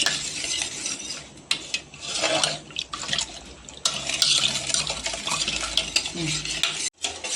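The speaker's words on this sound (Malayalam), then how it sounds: "ഇനി ഇത് കോൺഫ്ലോർ അടി പിടിക്കാൻ ചാൻസ് ഉള്ളത് കാരണം കൈ മാറ്റാതെ ഇളക്കിക്കൊണ്ടേയിരിക്കണം തിളയ്ക്കുന്നത് വരെ" A cornflour mixture for homemade vanilla ice cream is stirred constantly in a pan on a gas stove: continuous scraping and swishing strokes with metallic utensil clinks, close and fairly loud, with no voices.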